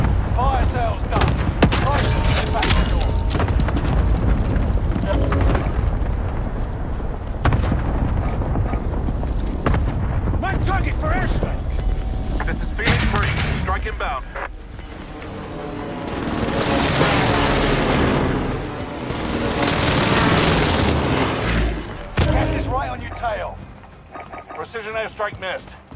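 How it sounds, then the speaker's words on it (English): An airstrike hits in Call of Duty: Modern Warfare, with a continuous loud barrage of booming explosions and gunfire rumbling throughout. Radio-style voices speak over the blasts. "Mark target for airstrike."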